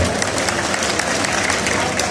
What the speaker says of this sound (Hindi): इस पे दिल से ताली बजा दीजिएगा